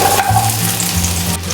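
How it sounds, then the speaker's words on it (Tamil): Small shallots frying in sesame oil in a kadai, a steady loud sizzle and bubbling hiss with no voices. "அதே கடாயில் வந்துட்டு இன்னும் கொஞ்சோண்டு ஒரு ஸ்பூன் மட்டும் நல்லெண்ணெய் விட்டுட்டு இது கூட வந்து நம்ம வெங்காயம் சேர்த்துக்கலாம்"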